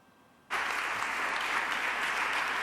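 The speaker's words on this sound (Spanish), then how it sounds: "Con aplausos de los representantes de las cooperativas, sus señorías y una excepción." Applause from cooperative representatives and members in a parliament chamber bursts in suddenly after a quiet moment and continues as a dense, steady ovation of many hands clapping.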